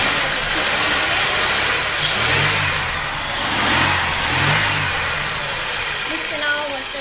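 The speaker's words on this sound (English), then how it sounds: "giving it a bit of a rev using the accelerator cable on the back of my throttle body" A car engine idles loudly up close, then swells through a few brief revs as the accelerator cable on the throttle body is pulled after a radiator flush and coolant change.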